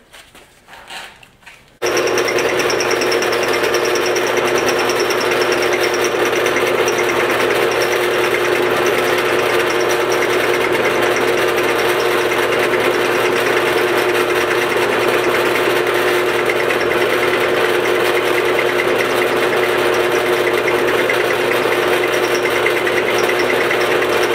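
A drill bores holes through knife handle scales, starting abruptly after a moment of quiet and then running as a loud, steady motor whir for the rest of the time, close by with no speech.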